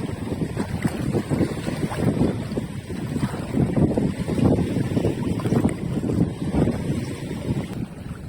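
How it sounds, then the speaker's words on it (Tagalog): Strong waves at a fishing spot on the shore wash and churn in a continuous, surging roar, with gusts of wind buffeting the microphone and no talking. "Malakas yung alon."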